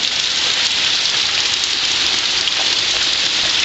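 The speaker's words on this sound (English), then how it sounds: "And there's the rain." Steady, heavy rain from Hurricane Nate pours down in a dense, unbroken hiss, loud and close throughout with no voices.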